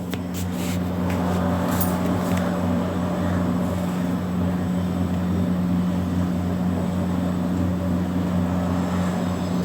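A kitchen mixer grinder whirs steadily as it grinds ginger and hot green chillies with a little water into a fine paste, a loud, close, continuous motor drone that holds for the whole stretch.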